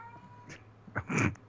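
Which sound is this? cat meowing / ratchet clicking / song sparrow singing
cat meowing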